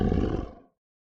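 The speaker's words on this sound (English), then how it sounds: "already they could both hear the wolf snarling" A wolf lets out a single deep, rough snarl, loud and close, that fades out within a second.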